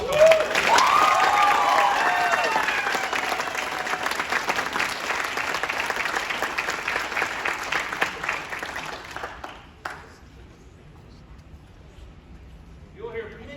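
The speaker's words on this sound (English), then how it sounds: "Let's give it a round of applause." A school jazz band audience applauds its student soloists, with loud, dense clapping from the start that gradually thins and fades out about ten seconds in, followed by quiet.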